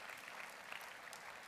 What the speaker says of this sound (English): So give yourselves a round of applause for making that happen